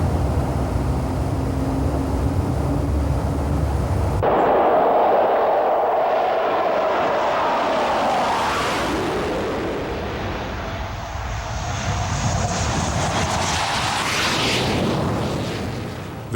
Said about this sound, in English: During a scramble, the aeroplane is pulled out of the shelter and the engine is started during the tow.